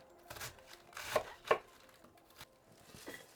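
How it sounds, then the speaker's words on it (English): A knife slicing cabbage thinly for sauerkraut on a cutting board, a few uneven crisp cuts and thuds, close and fairly quiet, with no speech over them. "just get it all sliced up"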